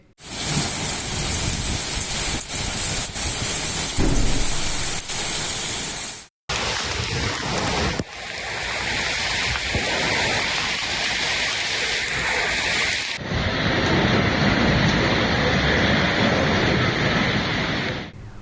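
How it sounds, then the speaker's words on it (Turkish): Dense, steady roar of heavy hail pounding surfaces in a city centre, continuous and loud, with a brief cut partway and a shift in tone later. "Şiddetini artıran dolu yağışının sesi ürkütürken"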